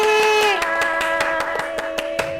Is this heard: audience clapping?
yes